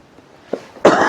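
A single sharp cough bursts out close by after a brief quiet moment with a small throat sound.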